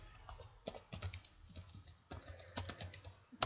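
Typing on a computer keyboard, quick bursts of light key clicks with short pauses, close and fairly quiet.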